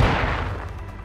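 A single heavy gunshot boom in Call of Duty: Modern Warfare II, loud and close, decaying into a rumbling tail over about a second.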